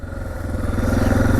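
Suzuki DR650 single-cylinder dual-sport motorcycle running with its muffler, a steady loud low engine thrum that builds slightly over a short stretch, heard close with no talk.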